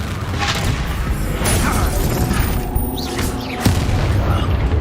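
A Confringo fire blast spell erupts in Hogwarts Legacy, heavy booms and crashing bursts in a dense, loud barrage, with a sharp impact near the end and scattered magical whooshes.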